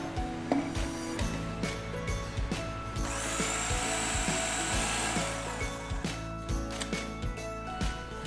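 Blender grinding hazelnuts for homemade hazelnut spread, a loud steady motor whir with the rattle of nuts churning inside, continuous and close with no voices.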